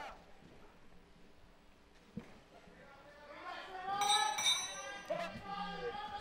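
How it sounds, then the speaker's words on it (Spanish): At a professional boxing match, Carlos Antonio Cañizales vs Esteban Bermúdez, the ring bell clangs briefly to start a round, ringing over crowd noise while a commentator talks. "Sonó la campana, acción del cuarto episodio"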